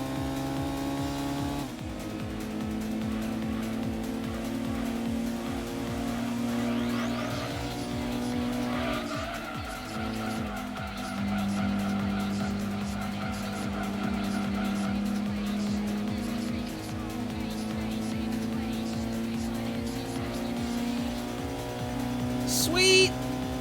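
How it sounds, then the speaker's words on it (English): A race car in Gran Turismo 2 revs hard through gear changes, its engine drone rising and falling while tires squeal through corners, sustained and steady over about twenty seconds with a sharp screech near the end. "This car sounds awesome."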